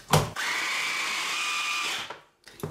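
A blender purees onion for a beef shashlik marinade, giving a steady, loud motor whir that runs for about a second and a half before cutting off, with a few knocks just before and after.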